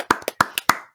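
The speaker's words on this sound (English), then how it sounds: "Let's get a round of applause for that queen" A few sharp, separate hand claps ring out close by on a podcast set, about half a dozen spaced irregularly in a second, sparse rather than a full crowd's applause.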